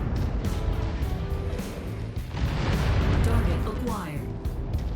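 Giant mechs trading fire in Mechwarrior 5, pulse lasers and LRMs mixing into a dense, continuous roar of blasts and rumbling impacts with no clear gaps.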